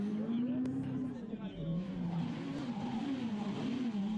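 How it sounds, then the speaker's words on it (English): A small Ford Fiesta rally car races along cobbled streets at the Rallye du Condroz, its engine droning loudly with a rising and falling revving tone as it passes, under a commentator's voice. "with the very rapid little Ford Fiesta. Racing around the same streets and the same cobbles"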